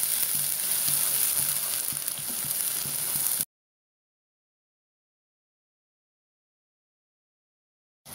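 Onion paste fries in hot mustard oil for potato curry, a dense, close sizzling hiss lasting a few seconds before cutting to silence.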